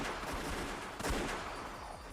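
Rapid bursts of gunfire rattle in quick succession, loud and continuous like a firefight, in the game Umineko Chiru.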